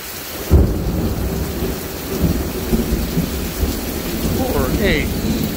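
A thunderstorm with a sudden loud crack of thunder early on, then steady heavy rain and rumbling carrying on throughout, close and full, with no voices.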